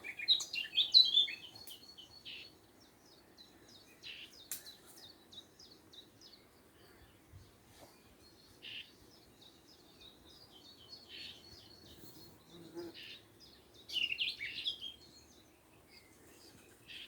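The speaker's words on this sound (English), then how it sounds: "Let's just listen to the birds singing for a bit." Several birds sing in a Cheshire woodland with sycamore trees in the afternoon. The chirps and short phrases are faint and scattered, with a few livelier bursts over a quiet background.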